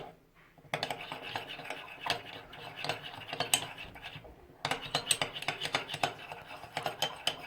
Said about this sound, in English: Then we're going to mix it all together.